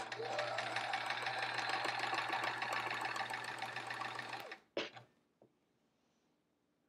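A sewing machine stitches a quilt block in a steady, continuous whir with a low motor hum for about four and a half seconds, then stops, leaving a few faint clicks and handling sounds.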